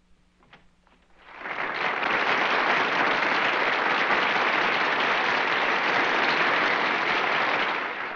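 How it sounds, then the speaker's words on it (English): Applause for Governor Shivers at a formal 1950s gathering, a large audience clapping loudly and steadily after a quiet start, sustained to the end. "The applause you hear is for Governor Shivers"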